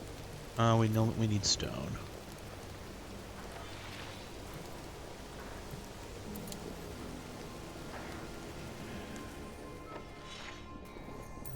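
Steady rain falls in the video game Mind Over Magic, a soft even hiss under brief game effects and a person talking.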